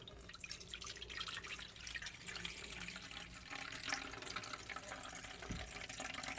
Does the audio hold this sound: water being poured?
yes